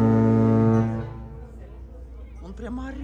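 A cruise ship horn from the MSC Opera in Dubai blares loud and deep for nearly a second, a sustained harmonic blast that cuts off, followed by people talking nearby.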